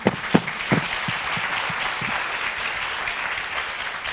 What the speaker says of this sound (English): how about a round of applause for Sandra?